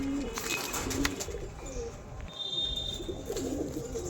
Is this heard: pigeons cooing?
yes